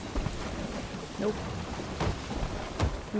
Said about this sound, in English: especially with the storm here now.